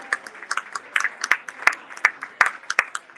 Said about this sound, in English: Give her a round of applause for the great work in our community.